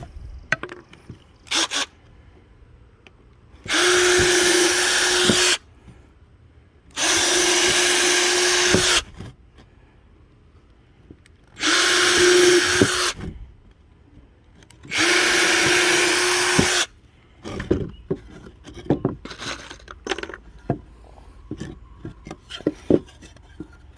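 A power drill bores pilot holes into wood for a homemade birdhouse in four loud, steady bursts of whirring about two seconds each. Clicks and handling noises fill the gaps between bursts.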